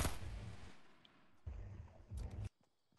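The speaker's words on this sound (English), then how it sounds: "Someone's shooting." Gunshots in a video game, three distant, muffled bursts of gunfire with short rumbling tails, separated by brief gaps before falling quiet.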